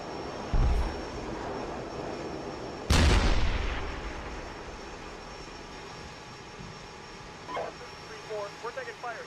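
Gunfire and explosive blasts in the military video game Arma during a city battle: two heavy booming reports, the second loud and long-decaying, then a few fainter distant shots near the end over a steady rumbling background.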